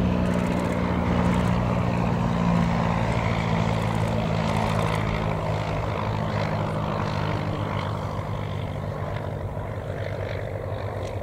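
A vintage de Havilland biplane flies at an air show, its propeller engine giving a steady, fairly loud drone that fades slightly as it moves away, with no voices over it.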